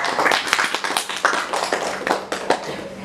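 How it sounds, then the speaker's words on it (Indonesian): Brief, sparse clapping from a small podcast audience, with scattered individual claps and taps rather than full applause, fairly close and unaccompanied by talk. "Tepuk tangan dong"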